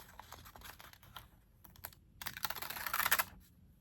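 A sticker-like masking layer is peeled off a watercolor card of coneflowers, giving a close, crackly tearing sound in bursts that grows louder and denser toward the end.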